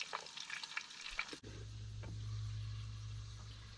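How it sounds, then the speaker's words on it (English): Cucumbers are deep fried in hot grease, with light scraping and clinking at first, then a steady close bubbling sizzle that holds after they drop in. "Grease is hot."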